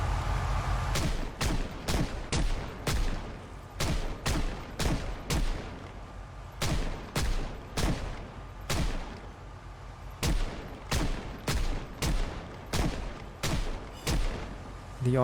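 Gunfire in the zombie survival video game Project Zomboid, about two dozen loud close shots in uneven bursts and single cracks, each with a short echo tail, over a low background hum.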